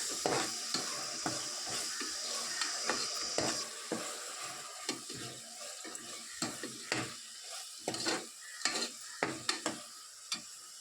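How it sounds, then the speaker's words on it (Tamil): Ginger-garlic paste sautéing in hot oil with onions: a steady sizzle under repeated scraping strokes of a spoon against the pan, the stirring knocks coming in uneven bursts and growing sharper toward the end. "நல்லா பச்சை வாசனை போகிற அளவுக்கு வந்து நம்ம நல்லா வந்து எண்ணெயில் வதக்கிக்கலாம்"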